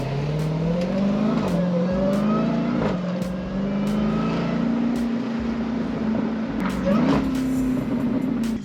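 A Jeep Grand Cherokee Trackhawk engine drones loudly, its pitch rising and dipping as the throttle swells, a sustained roar close by with no voices over it.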